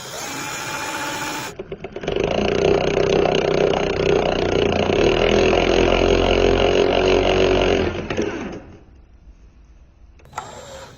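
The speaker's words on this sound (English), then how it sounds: "here as you can see I have made a mark where I'm going to drill a hole" A drill bores a hole through a water pump cover, a loud steady whine starting abruptly and running for about six seconds before stopping, with quieter workshop sounds on either side.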